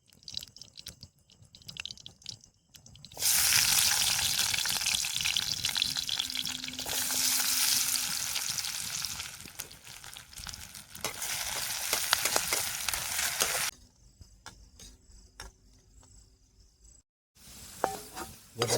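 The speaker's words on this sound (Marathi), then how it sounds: "आधी आपण बटाटे परतून घेणार आहे." Potatoes sauté in a pan over a campfire in the jungle, a loud, steady sizzle with scraping stir strokes that starts after a quiet opening, fills the middle and drops away near the end.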